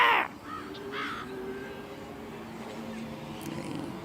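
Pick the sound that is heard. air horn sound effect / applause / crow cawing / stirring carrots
crow cawing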